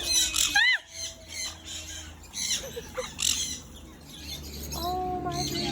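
Parrots and other birds at a bird park in St. Maarten give loud, close squawks and shrill whistling calls in bursts, with quieter chirps and a faint background murmur between them.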